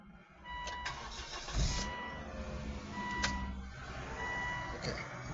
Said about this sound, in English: let's see what that motor sounds like